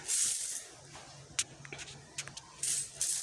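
Coins fall into a homemade coin sorter machine, giving a few sharp metallic clinks and rattles at close range amid hissy noise, with short quiet gaps between drops.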